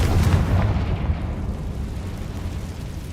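Confringo fire spell cast in the Hogwarts Legacy video game, a loud booming blast with a rumbling low-end burst that decays into a sustained roar across about three seconds, with no talk over it.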